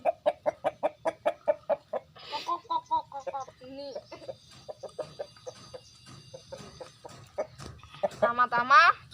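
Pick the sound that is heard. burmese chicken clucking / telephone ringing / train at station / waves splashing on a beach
burmese chicken clucking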